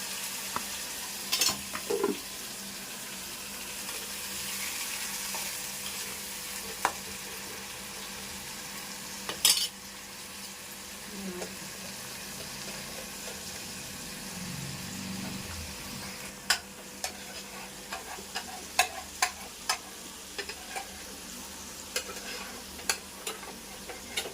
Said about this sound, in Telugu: ఎర్రగడ్డలు పచ్చిమిరపకాయ వేసినాం కదా అయితే ఫ్రై చేసుకున్నాం